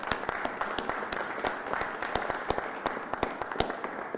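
Police officers being honored at a Black American Heritage Month ceremony receive steady applause from the audience, a moderate wash of clapping with sharp individual claps standing out throughout.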